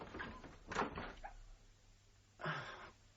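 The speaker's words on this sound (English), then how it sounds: "Holmes, I'm going to open this door" A door opens in an old London lodging setting, giving a short rustling creak near the start, then a second brief scrape or thud about two seconds later; moderate loudness with no talk.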